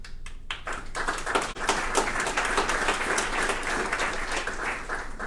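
Steady applause from a town hall audience, dense clapping that starts with a few scattered claps and swells into a sustained round.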